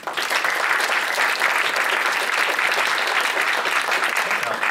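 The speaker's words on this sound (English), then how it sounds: "let's just give a round of applause to LEAP" An audience at a mentorship panel event gives a sustained round of applause, dense and steady clapping that fills the whole stretch at close range without a break.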